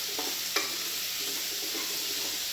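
Diced potatoes fry in a pan of oil for a home-style prawn curry, a steady close sizzle broken by a couple of sharp scraping stirs near the start, with no talking.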